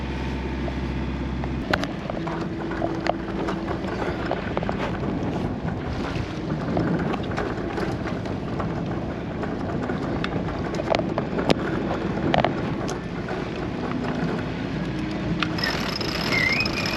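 Steady gusting wind rushes and buffets the microphone aboard a sailboat, with water sloshing and occasional creaks and knocks from the rigging.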